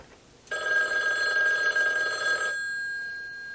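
A Western Electric telephone bell rings once in a steady, bright metallic trill lasting about two seconds, close and clear in a quiet garage workshop, with a lingering hum after it stops.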